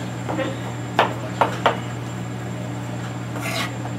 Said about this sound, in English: what I'm doing here is I'm chopping up some tomatoes